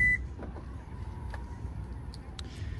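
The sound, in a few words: Subaru Forester power liftgate beep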